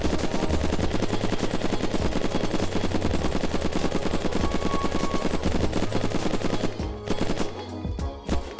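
Gunfire in the video game Unturned as a gun shoots at building walls: a dense, continuous stream of rapid shots that runs for about seven seconds, then tapers into a few scattered impacts.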